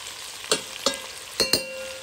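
Onions in a pan for smoked sausage with eggplant, a soft background sizzle punctuated by four sharp utensil scrapes or taps against the pan, close and distinct.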